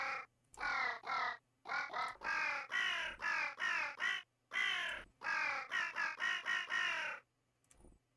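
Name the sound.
crow caw voice in the video game Vintage Story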